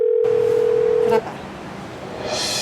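An unanswered phone call produces a steady, clear ringback tone for about a second before it cuts off abruptly, leaving faint background hiss.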